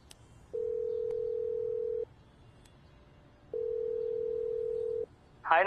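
A telephone tone hums steadily for about a second and a half, stops, then repeats once more after a pause, ringing out clean and moderately loud over faint background hiss.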